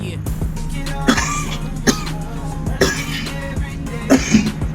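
A person smoking coughs repeatedly in harsh, close bursts with throat clearing between them, over a low steady background hum.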